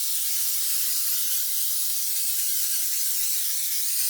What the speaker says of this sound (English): And I'm just going to spray them really well.